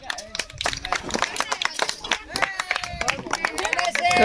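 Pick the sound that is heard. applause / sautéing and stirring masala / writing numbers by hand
applause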